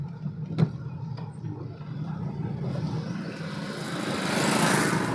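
A vehicle shifted into second gear, with a knock or clunk near the start followed by engine noise that rises steadily and grows louder toward the end.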